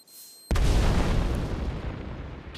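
A planted bomb detonates in the mobile shooter Standoff 2 or Critical Ops: a sudden loud, deep explosion with a sharp onset, followed by a long rumbling decay.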